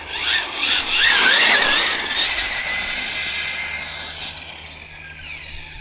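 Hobao TT2.0 Pro RC car driving past and braking, a loud high whine with a squealing tyre note that peaks early, then fades as the car moves away. No one speaks.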